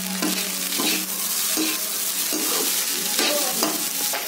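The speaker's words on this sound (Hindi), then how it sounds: "अब हम इसको राइस फ्राई बना रहे हैं, इसलिए इसमें राइस डालेंगे। अब इसको अच्छी तरह से मिक्स करेंगे।" Rice stirred into a frying pan for rice fry, repeated spatula scrapes in a regular rhythm over a constant loud sizzle, close and dense with no voices.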